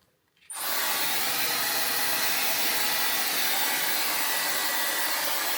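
A £14.99 Dyson-dupe hair dryer styler switches on after a brief silence and then blows with a loud, steady, broadband whoosh that holds without pause.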